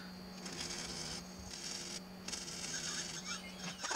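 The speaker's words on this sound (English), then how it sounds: "I'm using a air-powered wire brush to clean all this up. Sounds kind of funny, but nice and quick." Air-powered wire brush scrubbing welds clean on a cargo trailer folding bed frame, a faint buzzing, rattling whir in uneven bursts with brief dips, steady and low in level without talk.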